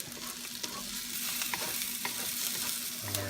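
Vegetables being stirred into Japanese fried rice in a hot pan: a steady close sizzle with scattered scraping and tapping of a utensil against the pan throughout.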